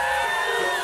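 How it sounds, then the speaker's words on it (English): A church congregation screams and cheers in worship, a dense, continuous roar of many voices with whoops and yells sustained at full volume throughout. "Come on, scream somebody."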